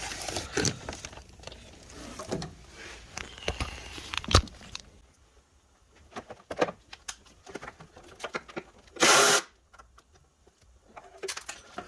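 Loosening and removing a 10 mm bolt on a 2007 Honda Odyssey engine during timing belt and water pump work: scattered close metallic clicks and ratcheting ticks in irregular bursts, with a louder sharp clink near the end.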